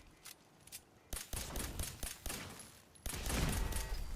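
Automated turrets firing in the Fallout 4 video game during a battle, bursts of rapid gunfire swelling into a dense, loud barrage, with no talking.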